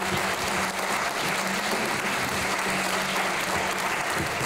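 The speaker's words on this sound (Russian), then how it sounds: "каждый из вас может подтвердить своими бурными овациями" An audience applauds enthusiastically after an evening concert in Karachay-Cherkessia, a dense, steady roar of many hands clapping that fills the whole stretch without letup.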